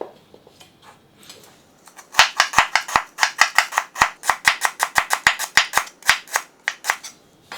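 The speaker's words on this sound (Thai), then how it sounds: "ก็ตะไคร้ครับ นี่ก็หั่นซอยบางๆ เช่นกันครับ" A knife slices lemongrass thinly on a cutting board in quick, even strokes, a few tentative cuts first and then a steady run of about two dozen crisp chops, close and loud, with no talking.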